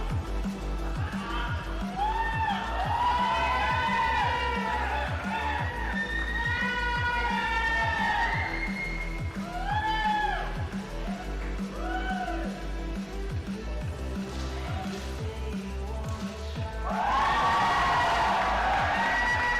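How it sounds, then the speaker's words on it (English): An Indian crowd at a men's 10m air pistol SH1 final roars and cheers loudly and continuously in a large arena, with a fresh swell of excited voices near the end. "it sends the Indian crowd berserk"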